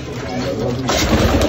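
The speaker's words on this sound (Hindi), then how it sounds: "कबूतर अपने ले आए हैं दो" Pigeons coo softly while pecking at grain, the calls partly buried under a voice and a rough, noisy background.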